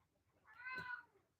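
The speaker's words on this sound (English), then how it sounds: "Meow." A cat lets out a single short, faint meow that rises and falls in a quiet room.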